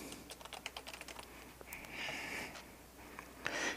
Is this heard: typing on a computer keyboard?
yes